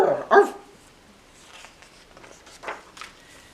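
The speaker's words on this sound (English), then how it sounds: "And 3 particular dogs." Dogs bark in a few sharp, close yaps at the start, followed by fainter scattered barks and yips further off, with footstep-like shuffles between.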